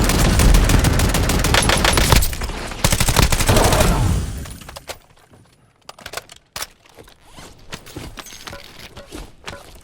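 Rapid automatic gunfire in an Overwatch match, loud dense bursts of rattling shots for the first few seconds, then thinning to scattered sharper single shots and clicks at a lower level.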